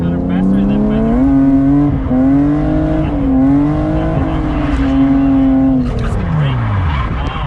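A BMW E36 drifts through a turn at full throttle at a drift event, the engine revving loud and close in rising and falling pulls, with tires squealing and the revs dropping away at the end.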